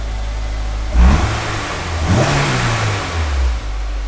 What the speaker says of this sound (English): fires right up.